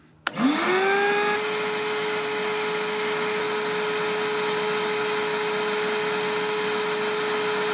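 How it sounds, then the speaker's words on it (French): A wet and dry vacuum cleaner powered by a Parkside portable power station switches on with a sharp click and spins up, then runs at a steady, loud whine with a constant motor tone throughout. "Un aspirateur eau et poussière."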